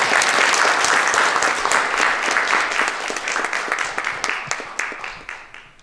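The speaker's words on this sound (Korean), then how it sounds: "큰 박수로 환영해 주시면 감사하겠습니다" Audience applause welcoming a guest speaker to a lecture hall, a full round of dense clapping that starts loud and gradually thins out into scattered claps, with no talking over it.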